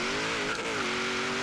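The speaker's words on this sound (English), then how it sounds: "ease on the gas, let go of the e-brake. There you go, hook." A 1990 Chevrolet Camaro IROC-Z engine holds a steady, loud revving drone with a brief dip and surge as it launches off the e-brake, all within a second and a half.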